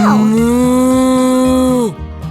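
In a farming video game for kids, a cow lets out one long, loud, close moo that holds steady before dropping off sharply, followed by faint soft sounds.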